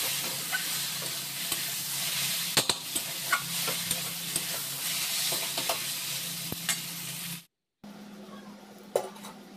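Vegetables sizzling in a pan with garam masala as a spatula stirs them, steady frying hiss with scattered scrapes and clinks, a brief silence near the end, then more stirring.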